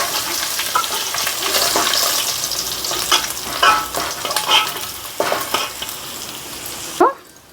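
Dried fish frying in a pan, loud close sizzling overlaid with repeated scraping and stirring strokes, bursts of spitting oil, then a sudden drop to near quiet at the very end after a final clatter.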